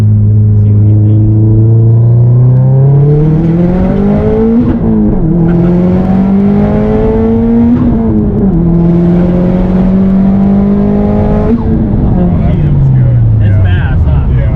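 A Mustang fitted with a BCP X500+ turbo pulls hard from second gear. Its loud engine roar climbs steadily in pitch, drops briefly at several upshifts, then climbs again.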